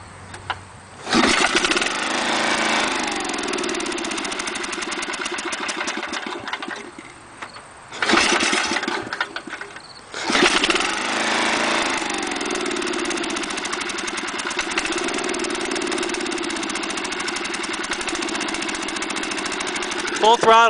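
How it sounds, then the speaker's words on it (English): Lawn mower engine running rough at full throttle, missing and popping, loud and close, with sputtering dips around the start and near the eight-second mark before settling into an uneven steady drone. "I mowed the whole lawn and it only popped a few times,"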